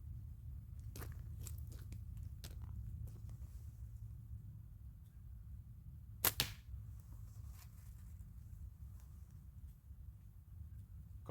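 A slingshot fires a few shots, sharp snapping band releases heard as several brief cracks spread across the stretch, with one louder double snap midway, over a quiet low background.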